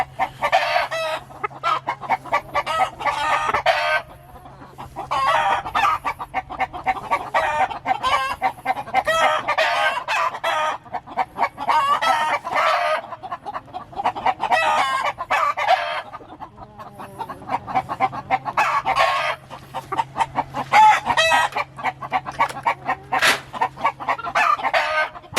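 A flock of black chickens clucks busily and close by, with roosters crowing now and then, a dense, steady chorus of bird calls running the whole time without any talking.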